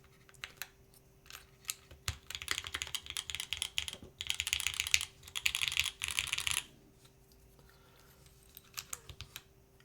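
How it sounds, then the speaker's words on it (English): Keys clack on an Optica mechanical keyboard fitted with harder durometer O-rings, with bursts of fast, close typing that build into dense rattling runs and then trail off to quiet near the end. "I feel like this sounds more full with the harder durometer O-ring now."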